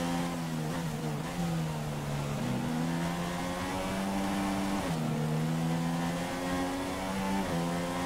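A Formula 1 car engine in the F1 2016 game at the Australian round, a loud continuous whine climbing in pitch and dropping sharply at each upshift, heard alone.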